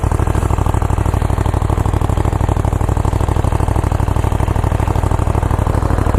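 A Ducati Monster 821 motorcycle engine runs loud and close, a rapid, even, throbbing pulse that holds steady for several seconds with no voices.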